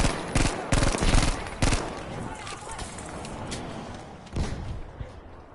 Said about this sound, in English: I'm concentrating on controlling this dog shit gun.